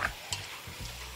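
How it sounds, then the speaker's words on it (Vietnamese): A spatula scrapes and stirs through sizzling food in a pan, soft and close, with faint frying crackle underneath. "Bây giờ đảo thịt đi"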